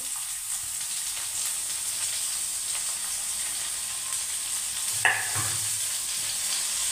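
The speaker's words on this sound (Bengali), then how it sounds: "পেঁয়াজটা টমেটোটা ভাজা হয়ে গেছে" Chopped onion and tomato fry in a pan with a steady, even sizzle. A short clatter of stirring comes near the end, and no one speaks.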